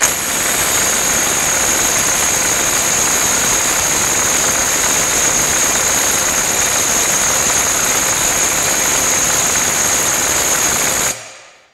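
A DeWalt DCF860 impact driver runs in forward on a 5Ah PowerStack battery with a loud, continuous whirring drone close by for about eleven seconds, then cuts off abruptly.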